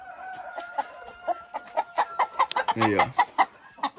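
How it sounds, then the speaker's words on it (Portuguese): A Brahma rooster on a poultry farm gives a quick series of short, rhythmic clucks, fairly close, with one throatier call in the middle and a brief human voice mixed in. "esse aqui é o nosso galo, brabo pra caramba"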